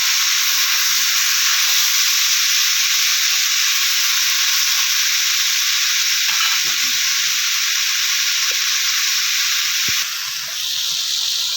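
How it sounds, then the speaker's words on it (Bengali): Leftover cooked rice frying with spices in a pan gives a loud, steady, close sizzle that hisses on unbroken for several seconds, with faint stirring scrapes underneath and no voices. "এইভাবে অল্প মাত্র আস্তে আস্তে ভাজাটা করে নেব"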